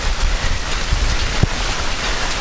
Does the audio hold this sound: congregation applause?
no